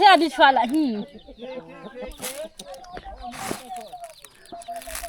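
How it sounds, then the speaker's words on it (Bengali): Chickens cluck nearby while being fed on a hillside homestead in the Bandarban hills, with soft, scattered clucks and people talking close by. "এখানে মুরগির খাবার দিচ্ছি"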